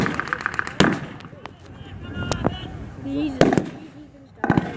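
Mortar rounds fired during a World War 2 reenactment at Crowle, heard as several distant booms and thuds scattered through the clip beneath ongoing talk and crowd noise.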